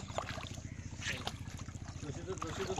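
A boat moves on water with a fast, steady chugging engine rhythm throughout, with faint voices and water noise in the background.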